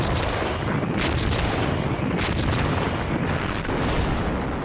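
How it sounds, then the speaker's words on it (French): German artillery firing in WWII archive footage, a dense continuous roar of gunfire with several heavier blasts standing out at regular intervals, loud and unbroken throughout. "L'artillerie allemande fait des ravages dans leurs rangs."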